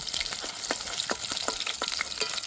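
Hilsa fish frying in hot oil, a steady close sizzle with soft crackles and pops scattered throughout, no voices.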